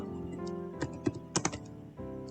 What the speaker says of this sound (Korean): 퍼블릭 키보드로 직접 적으세요